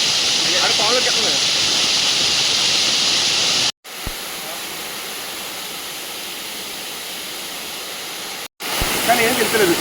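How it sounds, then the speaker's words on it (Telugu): Vadapalli waterfall pours down in a steady, loud, broadband rushing roar that cuts out briefly twice, with people talking over it. "Vadapalli water falls"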